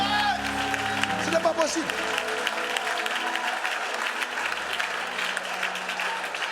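A church audience applauds loudly and steadily while someone speaks over the clapping in French, the crowd noise holding throughout.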